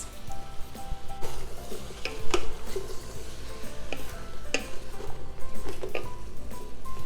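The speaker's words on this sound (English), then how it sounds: "So we wanna saute them in this pan for approximately 4 to 5 minutes." Broccoli, zucchini and squash sauté in a pan for a pasta primavera, a low continuous sizzle broken by light clicks and scrapes of a utensil stirring the vegetables.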